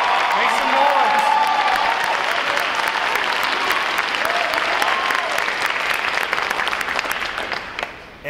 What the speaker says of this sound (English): How about a round of applause for them today?